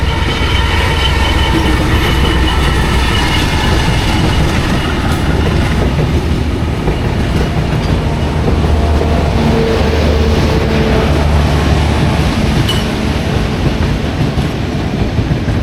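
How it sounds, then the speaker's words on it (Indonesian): A long economy-class passenger train rolls past near a station in a village, its loud continuous rumble and clickety-clack of wheels filling the whole stretch without letup. "Wow, ada kereta."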